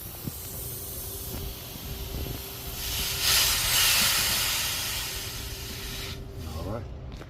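Air hisses steadily out of the refrigerant lines of a condenser unit during installation, swelling louder mid-way and then tapering off, with a few faint knocks and a brief voice near the end.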